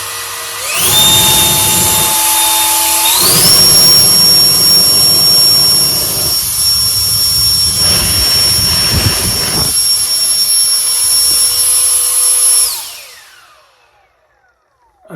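A loud, high-pitched whine of a small turbine fan roaring at full power, pitch rising as it spins up, then winding down and cutting off.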